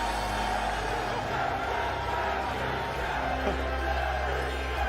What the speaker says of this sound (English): the crowd goes insane